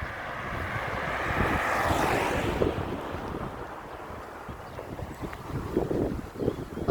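Strong wind blasts across the microphone in a continuous roaring rush, swelling and easing over several seconds, loud and close with gusty buffeting and no voices.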